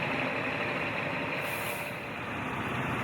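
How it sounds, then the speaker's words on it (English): A heavy lorry rumbles across a narrow causeway to an island at a civil works site, its engine and road noise forming a loud, steady roar close by, with a brief hiss over it and no talk. "It's a tight fit for the lorry crossing the causeway."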